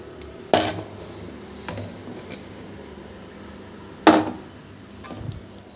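Semolina being poured into stringy jaggery syrup and stirred in a pan over low flame for rava laddu: two sharp metallic clatters of spoon against pan, with faint scraping and stirring between them and no talk.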